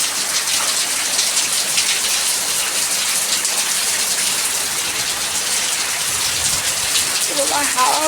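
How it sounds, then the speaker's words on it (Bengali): A heavy downpour pounds down in a dense, steady roar of rain on surfaces, loud and close, with gusts of wind mixed in. "এরকম মুষলধারে বৃষ্টি পড়ছে।"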